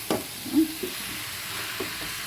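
Vegetables such as carrot, beans, broccoli and potato with spices sizzle softly in a pan, with a few scraping stirs and light knocks of a spoon over a quiet, steady frying hiss.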